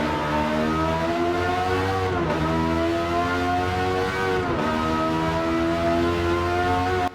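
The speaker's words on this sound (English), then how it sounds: "This may be one of the most visceral sounding cars in all of Gran Turismo." Ferrari F430 with a flat-plane-crank V8 in Gran Turismo 7, held at a high, loud rev that dips twice in quick gear shifts and climbs again, a continuous, harmonically rich snarl with no talk.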